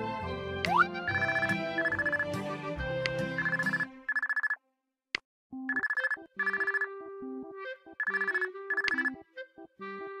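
Telephone ringing in the animated cartoon Three Cats, a bright electronic ringtone melody that repeats in short bursts with brief pauses, loud and close with no voices.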